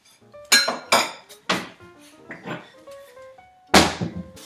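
A big bowl being taken out and handled in a home kitchen, with several loud clanks and clinks of crockery in quick bursts, close by, between quieter gaps.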